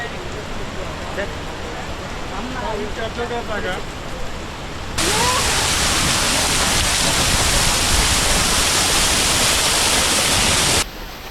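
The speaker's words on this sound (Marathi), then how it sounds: "मस्त धबधब्यांचा आवाज येतोय." A person talks over a hissing background, then a loud, constant rush of a roaring monsoon waterfall at Harishchandragad fills the rest before dropping suddenly.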